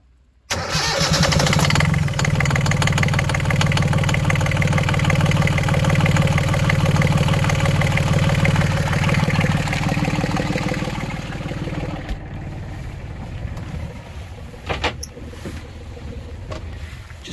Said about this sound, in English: a short video showing a cold engine start